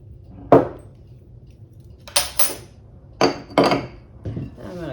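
Utensil knocking and clattering against a bowl while bread dough ingredients of flour, salt, sugar and commercial yeast are mixed, in four or five separate clinks and scrapes with quiet pauses between them.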